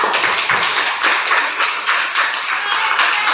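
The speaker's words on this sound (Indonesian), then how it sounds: "jadi tepuk tangan untuk Naina dan Dea" Classroom of students clapping for classmates Naina and Dea, a close, loud, dense patter of hands that holds steady for a few seconds with slight pulses in intensity.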